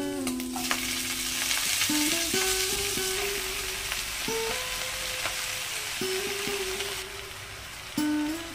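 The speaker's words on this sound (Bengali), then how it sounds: "চিংড়ি মাছগুলোকে আমরা খুব ভালো করে ভেজে নেব।" Shrimp and spinach fry in a pan with a loud, constant sizzle close by, broken by short tonal squeaks and scrapes as the pan is stirred. No voices.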